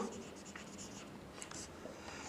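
Pen writing a geometry proof by hand, a soft continuous scratch of strokes with small taps, close and quiet, with no talk.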